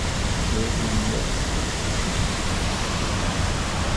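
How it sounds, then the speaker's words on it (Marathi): Water overflowing from a dam and pouring down the Verawali waterfall in Lanja, Konkan, a loud continuous roar of falling water filling the whole stretch, close and unbroken. "हा बघा वॉटरफॉल म्हणजे ॲक्च्युली इथे बेर्डेवाडीचं धरण आहे वरती हे बघा त्याचं पाणी आहे ना हे ओव्हरफ्लो"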